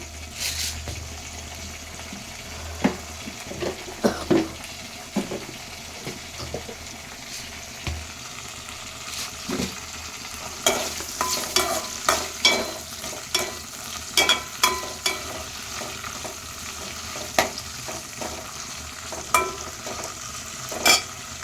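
Green chillies fry in a pan for a Telugu-style chilli, curry leaf and tomato chutney, giving a steady close sizzle with bursts of popping and crackling and a spoon stirring now and then. No one speaks.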